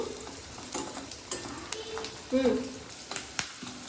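Onion tadka frying in oil in a pan, a steady close sizzle broken by clattering stirs and utensil knocks.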